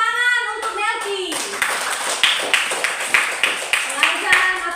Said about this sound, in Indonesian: Tepuk tangan untuk Melki.